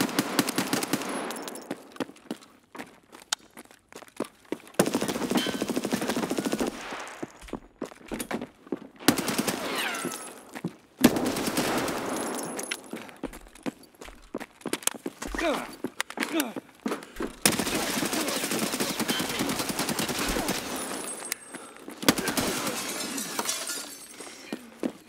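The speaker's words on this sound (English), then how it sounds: "One of them has a full auto gun." Repeated bursts of full-auto gunfire in Escape from Tarkov, close and loud, firing in short rattling volleys separated by brief gaps, with someone talking over the shooting throughout.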